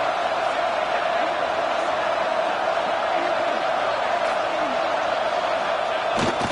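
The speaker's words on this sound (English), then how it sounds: "the crowd really making some noise now, trying to help out this defense to get this stop near the goal line." Football stadium crowd at a college game roaring steadily near the goal line, a dense continuous wash of cheering and noise with no pauses.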